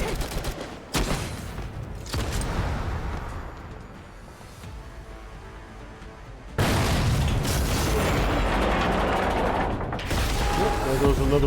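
Enemy mech explosions in the sci-fi shooter Girls Frontline 2: Exilium, a dense roar of booms and gunfire bursts with mechanical clatter, loud and sustained, surging again midway through the battle.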